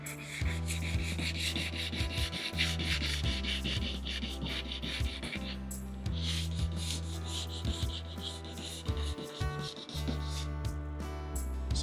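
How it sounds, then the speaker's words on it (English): Steady abrasive rubbing of sandpaper stripping paint from an airplane bumper, continuous and close with brief pauses in the stroke, under a persistent low hum. "paint getting sanded off there"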